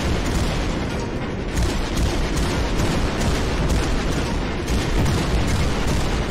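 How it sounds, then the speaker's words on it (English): A missile barrage pounds the beach in the VR shooter Beach Head: loud, dense, overlapping booms and blasts roll on without pause, with no voices heard. "Caution. Missile barrage."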